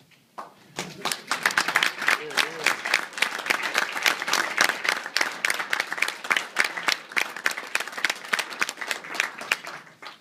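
A large audience applauds loudly and continuously, with dense overlapping claps and a few cheers or voices mixed in near the start.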